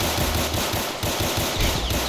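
Gunfire rattles in a Roblox hood roleplay game, a loud, dense burst of rapid automatic shots filling the whole moment with no pause.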